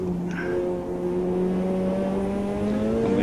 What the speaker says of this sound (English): It's one of the Supras goes whizzing past.